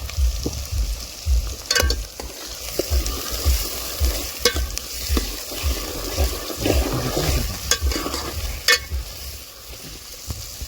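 Onions frying in hot oil with cumin and salt for a chicken curry, a steady sizzle broken by repeated scraping stirs of a spoon in the pan, close and fairly loud with no talking.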